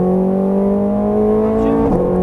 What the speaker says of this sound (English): Squeeze on the gas. Full throttle.